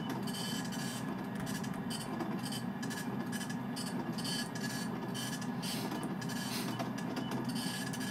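An old printer in the Freddy Fazbear's Pizzeria Simulator game grinds and rasps in a faint, continuous mechanical churn with irregular clicking pulses throughout.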